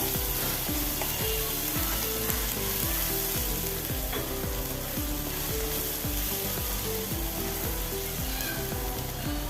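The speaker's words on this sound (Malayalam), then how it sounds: "ഒന്ന് ഇളക്കി കൊടുക്കാം" Egg bhurji with chopped green chillies frying in a pan gives off a loud, steady sizzle, while a spoon stirs it in a regular rhythm of repeated scraping strokes.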